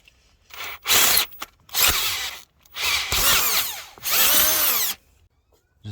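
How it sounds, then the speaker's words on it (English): A power drill bores a hole with successively larger bits for an overhead gauge install on a first-generation Cummins, sounding as several close, loud bursts of whining drilling split by short silences. "then I'll start with a small drill bit and work my way up."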